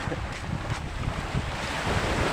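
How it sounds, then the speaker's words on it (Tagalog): Rough sea waves wash ashore at a beach, a short burst of surging surf under gusty wind noise buffeting the microphone. "Ngayon, ang ating karagatan ay medyo masungit konti."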